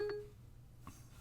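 A phone emits a short electronic beep followed by a softer second tone, faint and alone against a quiet room.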